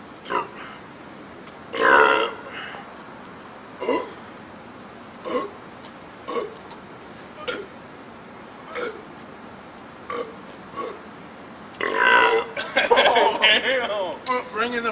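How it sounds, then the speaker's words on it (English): Loud, deliberate burps from people in a burping challenge, about a dozen short bursts spaced irregularly, then a longer rough belch followed by laughter and chatter at the end. "Bringing the burps back."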